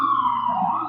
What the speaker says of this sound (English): Let this noise go. I'm sorry, it's ambulance.